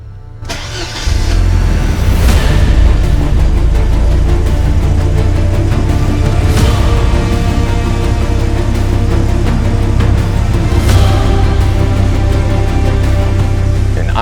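A Porsche 944 Turbo, running with two bad plug wires, cranks and fires up, then settles into a steady, loud, close engine run with deep low rumble for the rest of the time, no talking.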